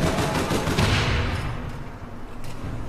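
Gunfire rattles in the video game APB Reloaded, a dense burst of shots up close that tapers off, followed by a few scattered pops.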